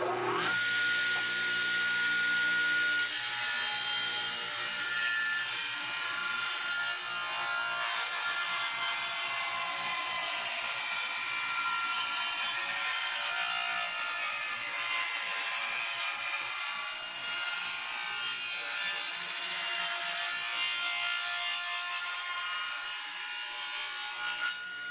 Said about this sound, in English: Now I'm going to rip it to thickness.